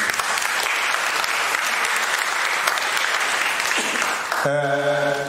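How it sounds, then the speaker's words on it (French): An assembly hall audience at a Douala general meeting claps together in sustained applause, dense and even for about four seconds before a sustained tone takes over at the end. "Applaudissons pour nous-mêmes"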